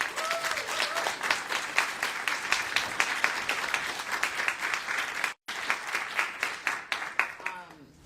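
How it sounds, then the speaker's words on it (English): A panel audience at an event on dissent and a bubble bylaw claps for the speakers, a lively run of distinct, close claps with a brief gap partway through. "Can we just give folks another round of applause?"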